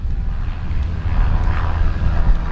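A fixed-wing airplane passes overhead outdoors with a low, rumbling drone that swells and holds steady. Wind buffets the microphone throughout.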